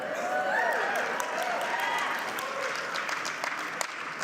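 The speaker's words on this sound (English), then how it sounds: "Thank you so much for that applause." Audience applause fills a keynote hall at a convention's opening session, steady dense clapping over about four seconds with faint voices mixed in.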